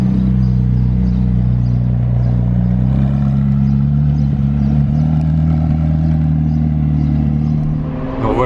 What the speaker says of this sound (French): On a chopé la McLaren 709 Mansory.